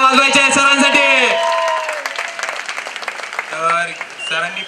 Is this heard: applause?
yes